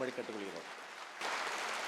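Brief speech gives way to a burst of applause at a political party general council meeting, a dense wash of clapping that fills the last half-second or so.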